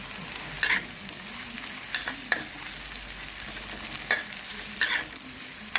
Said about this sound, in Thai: มาเลยทำผัดหมูหวานกันนะครับผม